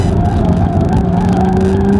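A 2018 Audi S5 Sportback with quattro all-wheel drive is driven hard through corners on open land, giving a steady, close engine drone with a continuous rush of tire and road noise and no talking.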